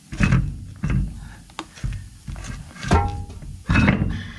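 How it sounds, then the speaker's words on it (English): A big RV wheel and tire being wrestled onto the hub while the lug holes are lined up: a run of dull thunks and knocks at an uneven pace, loud and close, with brief metallic scrapes between them. "this is always the fun part is wrestling these uh, big old wheels, tires back on here"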